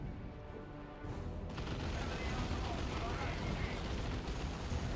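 Heavy D-cannon artillery booming in a Dawn of War 2 Retribution 3v3 battle, a loud sustained rumbling blast that swells after the first second over dense battlefield din, with a commentator talking throughout.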